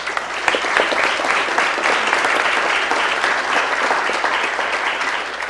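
Audience at a city council meeting giving the coaches a round of applause, dense and loud steady clapping filling the room for several seconds without speech.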